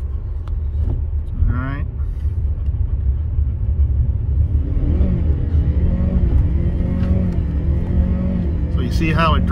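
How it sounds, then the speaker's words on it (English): A Kia hybrid's gas engine revs up loudly and steadily as it surges, a continuous throaty roar rising in pitch, with a voice speaking over it at times. "Now the gas motor is revving extremely high"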